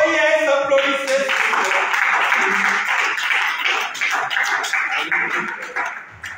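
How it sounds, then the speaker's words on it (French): Audience applause during a live speech, a dense wash of clapping that follows a voice at the start and stays steady before fading toward the end. "Oh yes, applaudissez!"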